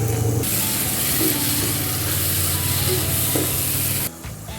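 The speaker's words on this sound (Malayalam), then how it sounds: "ഇനി ഇതിലേക്ക് ഒരു ക്യാപ്സിക്കോ ചെറുതായിട്ട് അരിഞ്ഞത് ചേർത്ത് കൊടുക്കാം." Chopped capsicum hits hot oil in a pan of chicken gravy with a loud, steady sizzle, stirred throughout, then drops off sharply near the end.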